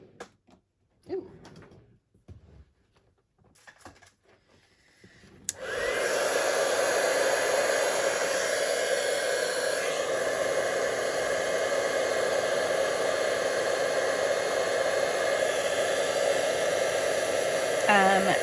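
After a few quiet taps and rustles, a heat tool switches on and blows a loud, steady hiss to melt embossing powder on a handmade autumn greeting card.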